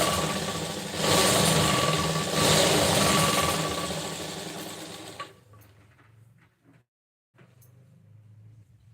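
A sewing machine stitches a blouse corner, a busy mechanical whir for several seconds that then stops, leaving quiet room noise with short soft taps.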